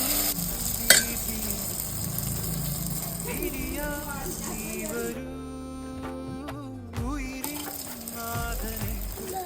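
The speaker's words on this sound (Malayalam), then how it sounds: "ഇവിടെ ഞങ്ങളുടെ പെസഹ അപ്പം റെഡി ആയിക്കൊണ്ടിരിക്കുകയാണ്." Pesaha appam (Easter bread) batter made with ground rice, onion and coconut cooking in a pan, giving a steady sizzle with scraping and stirring sounds while voices talk nearby.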